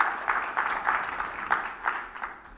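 A church congregation claps in steady rhythm during a service, with evenly spaced, moderately loud beats under a hall's echo.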